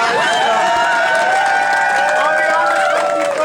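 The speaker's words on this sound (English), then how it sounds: "can we please give my dad a really big round of applause" An audience cheers and applauds for glass artist Scott Garver, a loud continuous wash of clapping and crowd voices, with whoops and shouts rising over it throughout.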